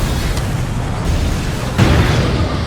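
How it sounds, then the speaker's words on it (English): Explosion set off on the set of a stunt-heavy reality show: a loud low-frequency boom rumbles continuously through the whole stretch, swelling into a sharper burst near the end, with no voices over it. "they do actually set off a lot of explosions."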